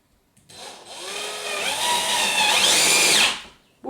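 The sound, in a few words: battery-operated drill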